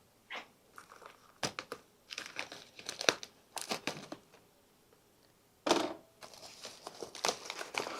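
Packing tape pulled off and crinkled while unpacking a dirty vintage IBM computer, a run of close, sharp crackling and rustling bursts with short pauses, louder crinkles near the middle and end.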